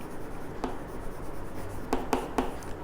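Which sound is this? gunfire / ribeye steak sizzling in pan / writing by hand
writing by hand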